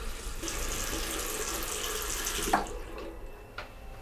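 Water runs steadily from a bathroom tap as a broad, even hiss, then thins out near the end, leaving a couple of faint knocks in a quiet room.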